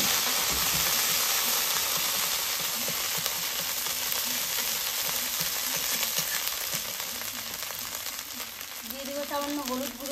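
Ginger paste and cumin tempering spices hit hot oil in a pan, a loud, continuous close sizzle with crackling bursts that carries on throughout while a voice talks over it.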